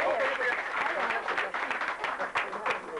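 A crowd at a chi kung demonstration applauds with steady, busy clapping. Voices speak over it throughout, and a few louder claps stand out near the end.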